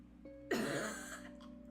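A single harsh cough bursts out suddenly, close and brief, trailing off into a breathy rasp over faint background hum.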